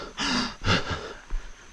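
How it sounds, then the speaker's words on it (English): Hiker on a forest trail breathing heavily: a few loud, close gasping breaths with a short snort-like exhale, alone without talk. "make it to where my breathing isn't as heavy in these videos."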